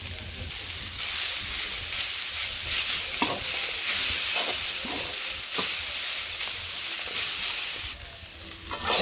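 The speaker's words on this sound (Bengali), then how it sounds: "তো পেঁয়াজগুলো ভালো করে সবজির সাথে মিশিয়ে নিই" Fried onions are stirred into vegetables cooking in a pan, giving a loud, steady sizzle with intermittent scraping of a spoon; close, with no speech.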